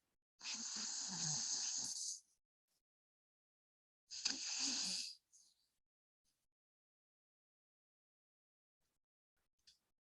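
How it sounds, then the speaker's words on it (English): Two long, deep breaths, in and then out, are taken slowly and close by as a stress-relief breathing exercise, with silence between and after them. "one round is basically breathing in and out"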